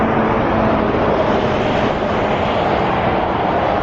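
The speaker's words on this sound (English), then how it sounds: "Noisy trucks." Heavy, noisy trucks cross a large rebuilt road bridge, making a loud, continuous broadband roar and rumble that stays steady throughout, with no talking.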